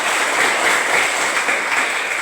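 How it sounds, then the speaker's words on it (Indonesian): Children in a classroom applaud together, a steady, dense wash of clapping that stays even for a couple of seconds with no talk over it. "Tepuk tangan semua."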